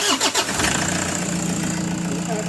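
Toyota Hi-Ace van engine cranking briefly in a few quick pulses, then catching and settling into a steady, close idle.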